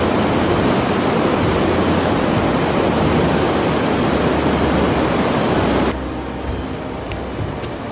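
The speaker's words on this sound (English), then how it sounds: "We crossed the Milk River for the first time. This river is fed from Everest itself." The Milk River in Nepal, a glacial river fed from Everest, rushes loudly as a dense, continuous roar of whitewater close by, dropping to a quieter, more distant flow near the end.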